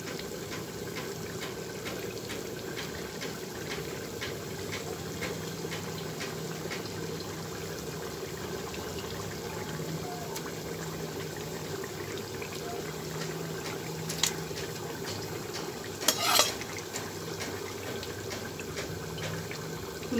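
A pot of broth bubbles and simmers steadily for a long stretch, with a couple of brief splashy clinks near the end as pre-fried fish is dropped in.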